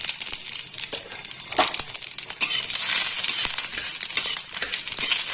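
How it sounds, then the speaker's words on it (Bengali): Two dried red chillies and a spoonful of panch phoron crackle and sizzle in about a teaspoon of hot oil for pui chingri, a steady close fry with scattered small pops and stirring clicks, no voice. "ভেজে নেব ফোড়নটা"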